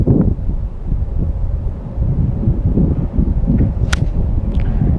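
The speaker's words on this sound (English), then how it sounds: "Wind helped me out though. That gust did." Gusty wind buffets the microphone on a Riverbend golf course in Kent, Washington, a steady low roar that swells and dips across the whole stretch, with a couple of brief sharp higher swishes near the end.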